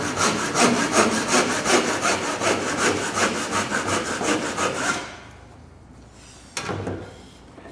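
A hand saw cuts wood for a tee halving joint in steady, rhythmic back-and-forth strokes for about five seconds, then stops, leaving a quiet room with one brief knock.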